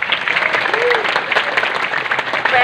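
Audience at a PSHT gathering with the Jember regent applauding for a branch delegation, a dense, loud, steady clatter of clapping throughout.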